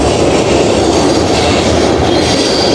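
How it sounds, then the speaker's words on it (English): An eastbound freight train passes close by with a steady loud roar, wheels clattering on the rails and a faint metallic squeal, and no voices. "Now this train's moving east with all that freight."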